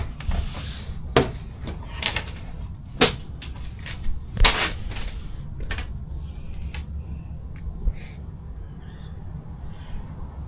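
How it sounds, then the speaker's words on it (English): Aboard a boat being worked on for a tripping breaker and switchable exhaust, the engine hatch is opened with a series of scattered clunks, latch clicks and rattles, close and fairly quiet against a low background rumble. "get this engine hatch open."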